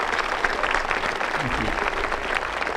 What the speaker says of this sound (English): let's give everybody, all of these contributors, applause.